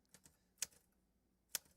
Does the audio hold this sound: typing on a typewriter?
yes